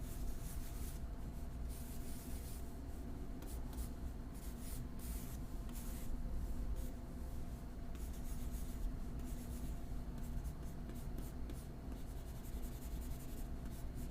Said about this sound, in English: So let's say I want to sketch out a character.